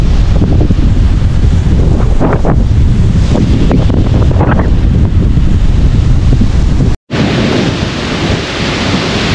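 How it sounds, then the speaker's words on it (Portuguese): Wind buffets an outdoor camera microphone in a loud, continuous roaring rumble that cuts out abruptly for a split second near the end, then resumes slightly quieter. "Vai ter bastante chiado aqui de vento nessa filmagem."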